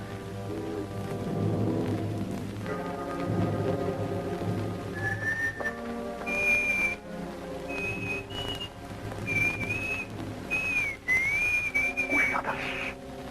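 A person whistles in the dark, a few thin wavering notes coming in short phrases over a hushed, muffled background.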